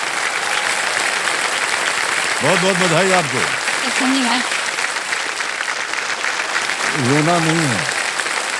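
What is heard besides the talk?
studio audience applause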